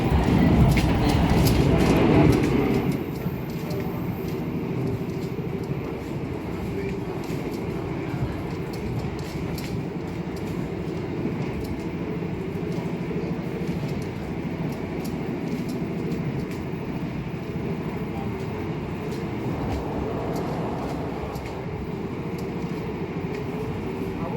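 A Sembrani passenger train runs at speed through Babakan station in Brebes, heard from on board as a steady, loud rumble and roar with a brief louder rush near the start.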